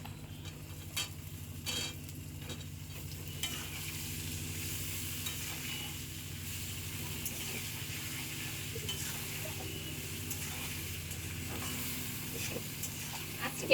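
Eggplant pieces frying in a pan for a thin hilsa fish curry with potato, giving a steady close hiss and sizzle throughout, with a few stirring scrapes near the start; no talking.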